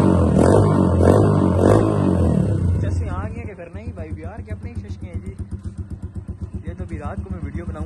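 A motorcycle engine due for a clutch change and tuning idles close by, its rough pulsing beat steady after an opening stretch of louder, heavier sound.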